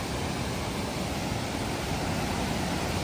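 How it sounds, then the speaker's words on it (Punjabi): Sutlej river water roars through opened floodgates in a steady, loud, unbroken broadband rush, with no voices heard over it. "ਆ ਦਰਿਆ ਦਾ ਪਾਣੀ ਇੱਧਰੋਂ ਦਿਸਦਾ ਕਈ ਕਈ ਫੁੱਟਾਂ ਦੇ ਉੱਚਾ ਇੱਧਰੋਂ ਥੱਲੇ ਨੂੰ ਡਿੱਗ ਰਿਹਾ ਹੈ"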